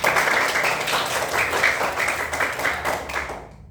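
A class of children claps together in a sustained round of group applause, a dense, steady wash of many hands that fades out at the end.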